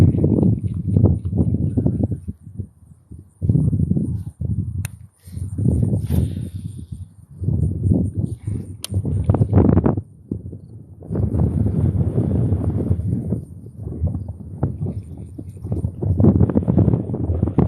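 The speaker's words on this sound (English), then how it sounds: "that wind is just killing me today" Strong wind buffets the microphone on a blustery day of bass fishing, a loud low rumble that surges in broad gusts through most of the stretch, easing briefly in a few short lulls.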